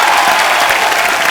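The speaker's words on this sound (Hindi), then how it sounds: "तालियां हो जाए इरफान भाई और जिमी बाजी के लिए।" A studio audience on The Kapil Sharma Show applauds for Irfan Khan and Jimmy Shergil, a loud, dense, steady wash of clapping filling the whole short moment.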